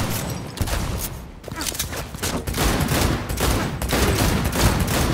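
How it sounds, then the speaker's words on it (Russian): Pistol fire in the video game Cyberpunk 2077, a dense run of sharp shots and bursts in quick succession over continuous game noise, loud and close throughout. "И тут хочется с хорошей стороны отметить стрельбу из пистолета"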